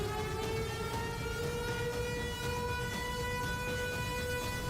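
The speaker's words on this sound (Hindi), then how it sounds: "सायरन की आवाजें गूंज रही हैं।" Air raid sirens in western Kyiv wail as a steady, sustained tone over constant low background noise, fairly faint and unbroken throughout.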